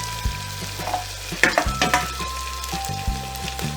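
Onions sizzle in a hot pan, turning almost transparent, with close, crackling frying and a few scraping stirs over a faint steady hum.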